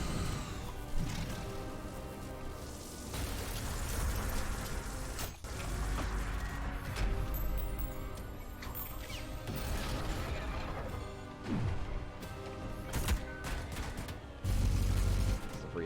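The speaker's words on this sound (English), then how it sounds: "SRS cannon. It's special." Heavy blasts from the SRS cannon in the video game ULTRAKILL, booming repeatedly through dense, chaotic combat noise with crashes and clanking mechanisms, loud and continuous throughout.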